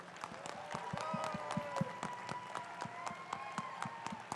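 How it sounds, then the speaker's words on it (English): A scattered round of clapping for the judges at a district robotics event's opening ceremony, faint individual claps in an uneven rhythm over a tonal background, with no strong crowd swell. "Can we get one more round of applause for all of our amazing judges?"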